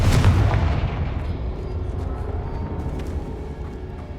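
A Confringo spell explosion in Hogwarts Legacy: a heavy, booming blast right at the start whose rumble slowly fades over the following seconds.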